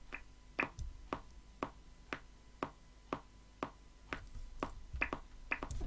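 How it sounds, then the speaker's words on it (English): A GarageBand software metronome clicks steadily at roughly one beat per second, about a dozen sharp, evenly spaced ticks, faint and alone. "that is the metronome"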